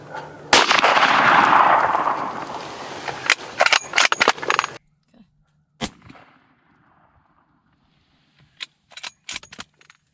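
Gunshot while hunting outdoors in the cold: one loud, sharp blast with a long rumbling tail, followed by scattered clicks and rustling handling noises, then a short quiet stretch before more faint clicks.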